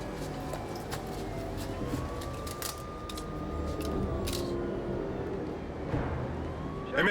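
A faint siren wails in the distance, rising and falling slowly beneath steady background noise, with no one speaking.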